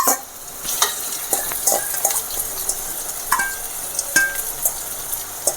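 Vallarai greens sauté with onion and tomato in a pan, giving a low sizzle with intermittent scraping clicks and light wet stirring sounds close by.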